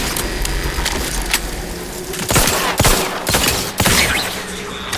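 Automatic turrets in The Outer Worlds 2 open up in loud, rapid bursts of gunfire, a few sharp volleys standing out over steady game background noise with no talk.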